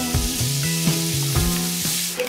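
Pork ribs sizzle and spit in a hot pan, a steady crackling hiss with a few clinks of stirring. It sounds close and fairly loud, and no one talks.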